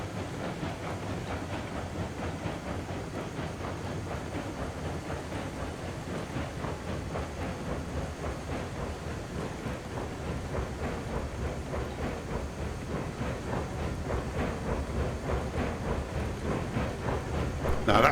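A model train runs on a newly built track layout with a steady rhythmic clickety-clack and motor hum, growing gradually louder toward the end.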